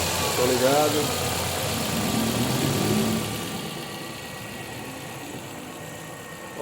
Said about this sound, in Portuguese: Motor ligado.